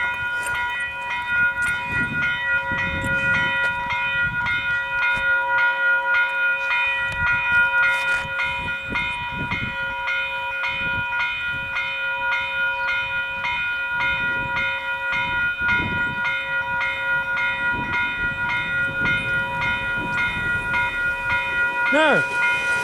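Northbound train on the Kapiti Line rolling past the Pascoe Ave level crossing, with a sustained multi-tone crossing bell ringing over rumbling wheels and passing carriages close by, and a brief horn-like tone near the end.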